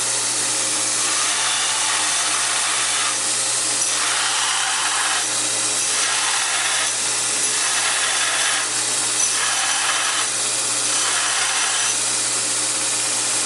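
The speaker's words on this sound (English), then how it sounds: "Pushing it against the grinder with your finger, these two fingers, going back and forth." Bench grinder grinding metal for blacksmithing, a steady loud abrasive hiss with a motor hum underneath, swelling and easing in a regular back-and-forth rhythm as the piece is worked against the wheel.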